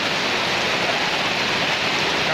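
Heavy rain, mixed with wind, pours down steadily at a roadside angkringan coffee stall in Kertosono at night, a dense, even hiss with no break.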